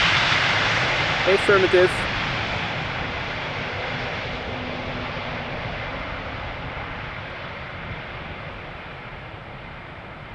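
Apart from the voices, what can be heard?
airplane engine at Schiphol Airport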